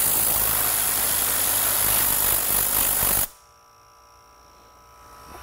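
Werther/Fiac quiet air compressor running, a loud, steady broadband hum and rattle that cuts off abruptly partway through, leaving near silence with faint residual hum.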